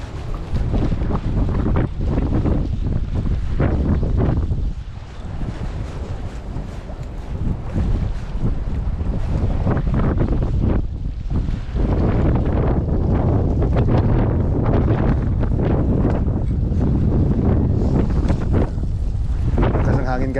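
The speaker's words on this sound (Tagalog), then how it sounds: "Sisi na guys, malakas ang hangin." Strong wind buffets the microphone aboard a fishing boat at sea, a loud continuous low roar with gusting surges, water sloshing against the hull and occasional voices underneath.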